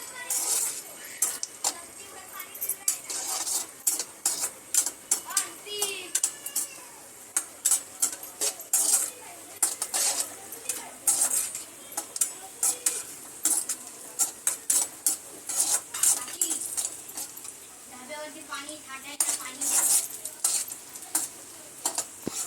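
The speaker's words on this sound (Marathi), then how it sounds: "काजू आपल्याला गरम करून घ्यायचे आहेत लाल करून" Cashews roasting in a little oil in a pan, a spoon scraping and clinking against the metal in quick repeated strokes over a soft, steady sizzle, close up.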